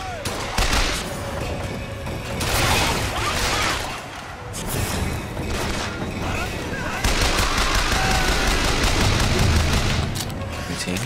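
Rapid gunfire bursts from the first-person shooter Bioshock Infinite, with repeated shots and clattering bangs running through the whole stretch at a steady loud level, alongside busy game effects.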